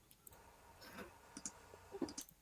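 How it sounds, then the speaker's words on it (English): Faint, sparse clicks sound in a quiet room during a pop culture talk stream, a few light taps scattered over soft background noise. "Oh, I hear clicking"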